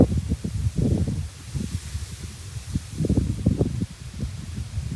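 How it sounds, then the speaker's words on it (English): Wind gusts through trees beside a fishing lake, giving soft rustling surges with a low rumble that rise and fall close to the microphone. "What's that wind?"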